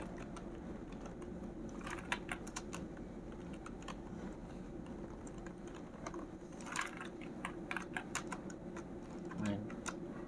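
Code being typed on a computer keyboard, a quiet, steady run of rapid key clicks with a few louder bursts, heard close over a faint background hum.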